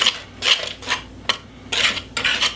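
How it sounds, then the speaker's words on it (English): A wire whisk scrapes and swishes through two cups of sugar in a mixing bowl, in about four close, bright bursts separated by short pauses. "Now you can mix these together"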